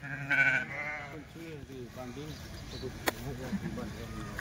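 Kathewadi sheep and a young lamb bleat in wavering cries, one loud call and several softer ones, while people talk nearby among the flock.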